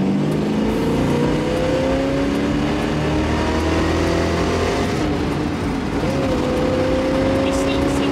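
Ford Mustang Mach 1 muscle car with its engine revving loudly and steadily, pitch climbing and sagging in long sweeps over a constant rumble, close up throughout.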